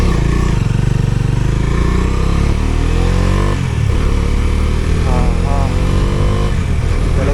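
A Bajaj Dominar motorcycle on a morning road ride, its engine droning steadily and loudly with shifting pitch as it accelerates. Wind buffets throughout, and a rider speaks over the engine.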